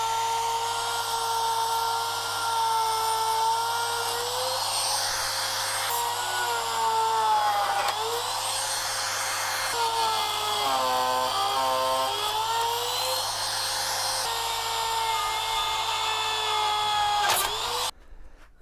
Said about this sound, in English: In my router, I've got a pattern cutting bit.